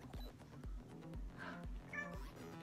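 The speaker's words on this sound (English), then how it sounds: "This is my beautiful cat." A pet cat named Evie meows softly over steady background music with a rhythmic beat, the brief mewing calls faint and partly masked.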